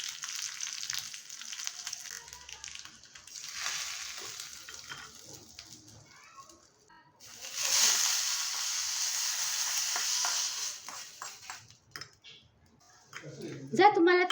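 Mustard seeds and green chilli sizzling in a spoonful of hot oil for a tempering, a steady crackling hiss that swells loudly midway, with spattering pops near the end.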